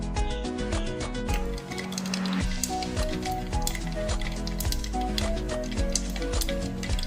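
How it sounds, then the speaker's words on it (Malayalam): Mustard seeds pop and sputter in hot oil with rapid crackling bursts, steady throughout, over background music. "എണ്ണ ചൂടായി വന്നിട്ടുണ്ട് അതിലേക്ക് കുറച്ച് കടുക് ഇട്ട് കൊടുക്കുക"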